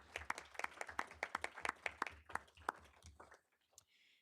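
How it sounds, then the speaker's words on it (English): Audience applause at a university board of trustees meeting: a burst of crisp, close hand claps that thins out and fades to near silence after about three seconds. "I think that deserves a round of applause."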